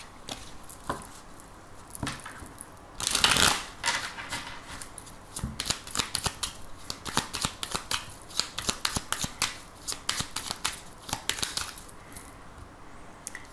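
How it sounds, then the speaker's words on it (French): An oracle card deck is shuffled by hand, with a burst of riffling followed by quick repeated flicks and taps of cards, close and clear with no talking. "Alors, on va utiliser également l'oracle de Béline."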